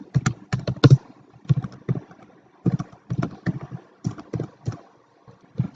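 Fingers type a Java program on a computer keyboard in irregular bursts of close, crisp key clicks, separated by short pauses and quiet gaps.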